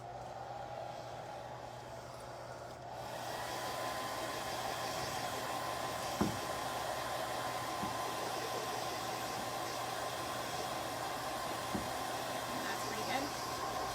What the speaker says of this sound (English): I'm going to use the hair dryer one more time.